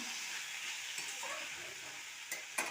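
Khesari greens stirred into fried potato and eggplant in a pan, giving a steady close sizzle with soft scraping strokes and a couple of sharper clinks near the end.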